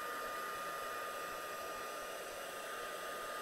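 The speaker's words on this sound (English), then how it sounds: "Next, we're going to heat that again with our heat tool." Steady, close hair-dryer-like rush of a heat tool blowing over embossing powder on a card, continuous and even for a few seconds before cutting off.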